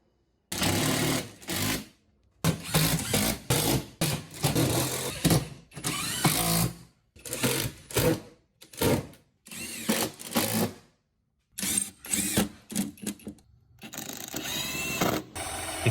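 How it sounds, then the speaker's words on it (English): Steel French cleats being screwed into a workshop wall with an impact driver, loud repeated bursts of whirring and rapid hammering clatter, a dozen short runs separated by brief pauses, close and without talk. "secured them to the wall using my impact driver"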